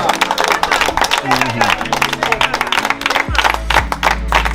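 An audience gives a round of applause at a gathering, dense, fast clapping that runs throughout, loud and close, mixed with a voice and tonal background sounds.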